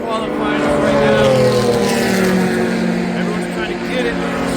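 Race cars roaring around Watkins Glen during a qualifying session, a loud continuous engine drone with shifting pitch as cars pass, with someone talking over the noise.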